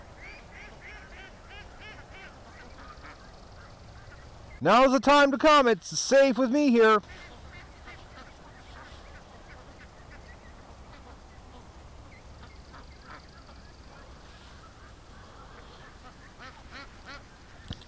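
Ducks honk and quack in a loud burst of overlapping calls lasting about two seconds, standing out against steady outdoor background noise, with a person talking to them before and after.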